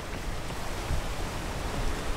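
Rain falls on a mountain trail on Marcus Peak, a loud, constant broadband wash with no distinct drops or voices standing out.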